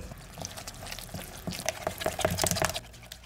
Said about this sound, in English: We do this by mixing water and investment powder together.